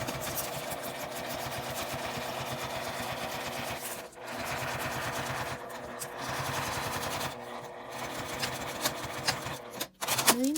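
A sewing machine stitches along a line through a large matte laminate double-zipper pouch, running in steady mechanical bursts with a rapid rhythmic whir, pausing briefly a few times, close and fairly loud with no talking.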